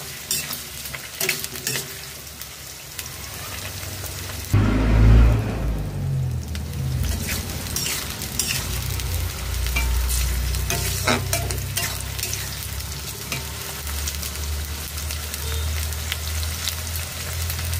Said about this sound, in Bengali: আম দিয়ে 3 মিনিট লো টু মিডিয়াম ফ্লেমে নাড়াচাড়া করে ভেজে নিয়েছি।